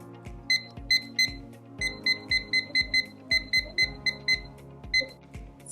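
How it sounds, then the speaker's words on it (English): A digital timer is set for 15 minutes, giving a series of short, sharp electronic beeps in quick groups with brief pauses between them over a faint tonal hum. "Next is to set a timer for 15 minutes."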